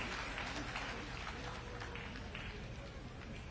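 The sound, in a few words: audience hand clapping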